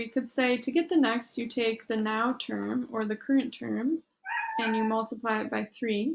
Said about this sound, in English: but he's meowing at me.